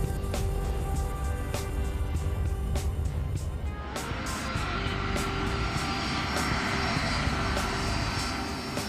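A C-5 Galaxy military transport aircraft touching down, with loud, continuous engine roar and broadband rumble that shifts partway through as the landing continues, heard from inside with no talking.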